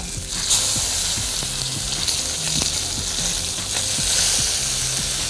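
Salmon sears in a hot pan, a loud, steady sizzle and crackle of frying with occasional small pops and stirring noises, close up and without talk.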